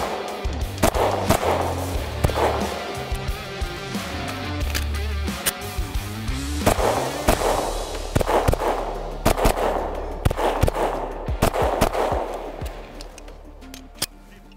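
A CZ P10C pistol is fired in a string of sharp, loud reports at an outdoor range, shots coming in irregular clusters with brief pauses between groups across the whole stretch.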